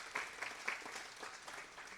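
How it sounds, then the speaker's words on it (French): Scattered applause from an audience at a talk on sleep apnea, faint and distant, with a few sharper claps standing out over a soft patter. "On peut l'applaudir, oui."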